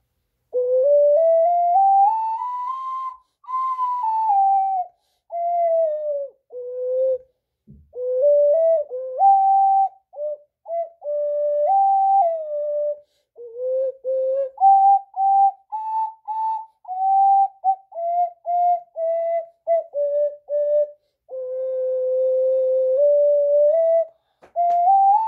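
An ocarina plays a slow, pure-toned melody of sustained breathy notes with smooth slides, close and clear, with brief pauses between phrases and no talking.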